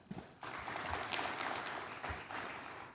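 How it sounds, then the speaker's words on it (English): An audience at a Kenyan private sector dialogue conference gives a brief round of applause, a dense patter of clapping at moderate distance that sustains evenly for a few seconds. "Another round of applause, please."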